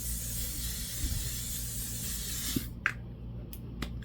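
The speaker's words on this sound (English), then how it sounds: "I like to use my L'Oreal Infallible 3-second setting spray and put this on my eyes so that the glitter doesn't fall off." A setting spray is misted over the eyes during a glitter makeup routine, giving a steady close hiss that ends abruptly, followed by a few brief soft clicks and taps.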